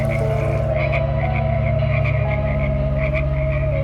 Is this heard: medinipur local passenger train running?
no